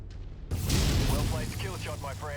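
A long-range sniper weapon on an Annihilator ANH-1E mech in MechWarrior 5 fires at an enemy mech, a single heavy low boom that breaks from near silence and rumbles on under a voice talking.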